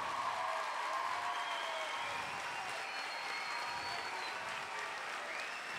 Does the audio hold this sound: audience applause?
yes